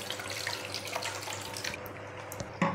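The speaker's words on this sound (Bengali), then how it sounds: "এতে একটু জল নেবো, বাটিটা ধুয়ে জলটা দেবো।" Water from a tap runs and splashes into a bowl being rinsed in a kitchen sink, a steady close trickle for a few seconds before a brief clatter.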